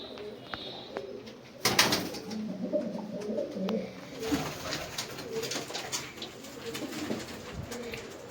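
Pigeons coo in soft, repeated low calls at a bird keeper's loft, with a brief burst of wing flapping or rustling partway through and steady background noise throughout.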